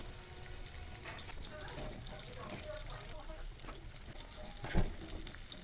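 Fish pieces go one at a time into hot, bubbling masala to fry, giving a faint, steady sizzle and crackle with one brief louder pop, while someone talks over the cooking.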